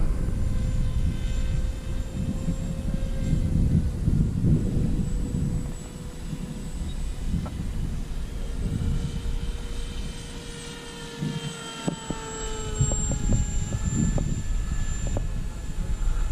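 An X-UAV X8 Skysurfer RC plane with a 2200 kV motor and 6.4 prop flies overhead, its steady electric whine drifting in pitch as it passes at moderate distance, continuous and fairly loud throughout with no talking.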